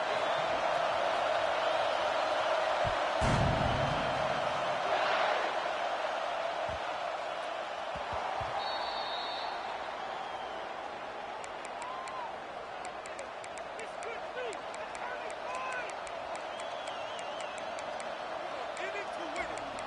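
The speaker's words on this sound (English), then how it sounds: "It's early, but this crowd is fired up. Listen to this noise here." A large college football stadium crowd roars steadily at the opening kickoff, a dense continuous wash of cheering and noise with a brief sharp thud early on.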